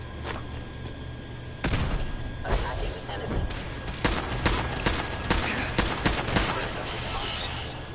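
In the Fallout 4 video game, a strong weapon fires repeatedly at an Institute synth, giving a string of sharp shots and booms with a person talking over them.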